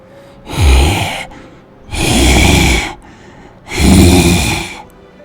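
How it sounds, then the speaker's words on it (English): Deep, heavy breathing of an unseen creature lurking in darkness below, three long loud exhalations in slow rhythm, each a rasping, snort-like rush of air separated by short quiet gaps. "you begin to hear a deep breathing sound below you"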